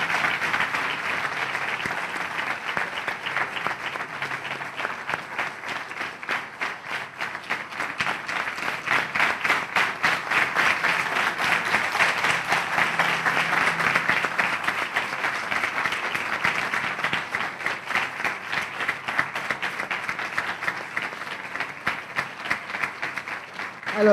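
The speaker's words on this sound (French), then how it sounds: "Sous vos applaudissements, s'il vous plaît." Audience applause in a French hall welcoming a couple into the room, long, steady, rapid clapping from a sizable crowd that swells slightly midway and carries on evenly, with faint murmurs under it.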